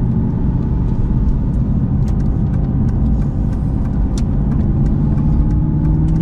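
A 2000s Aston Martin V8 Vantage with a manual gearbox runs with a loud, steady, deep V8 rumble heard from inside the cabin while driving, with faint clicks and rattles above the engine drone.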